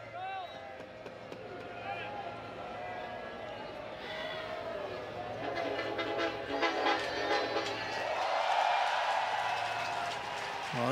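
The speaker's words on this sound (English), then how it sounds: "He belted out the Aggie War Hymn with his horn as he rolled by behind right field" A passing train's horn plays the Aggie War Hymn behind right field at a college baseball game between Auburn and Texas A&M. The horn is distant under crowd noise and an announcer's voice, and it swells toward the end.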